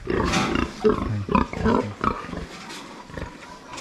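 A brown mother pig on a farm, bred for the third time, grunts in a steady run of close, loud snorts, with a brief spoken word near the start.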